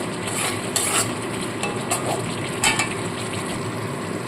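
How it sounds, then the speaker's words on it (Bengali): Cashew nuts being stirred in a pan while cooking, a continuous close sizzle with a few brighter spoon-scrape strokes at irregular moments. "কাজু বাদাম দিয়ে খুব ভালো করে নাপতে থাকতে হবে কারণ কাজু বাদাম কিন্তু নিচে লেগে যায়"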